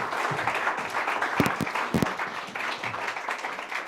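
An audience claps for the LA Stage Alliance CEO as he is called up, a lively, uneven patter of many hands with a few sharp close claps standing out, continuous throughout.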